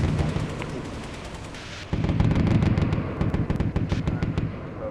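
A big cannon in a video game fires with a sudden loud blast midway, followed by a rolling rumble and a scatter of sharp cracks and impacts.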